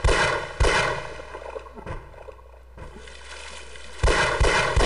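Pistol shots fired at barnacles in the video game Half-Life, sharp loud bangs in a few bursts near the start and end, with a quieter stretch between.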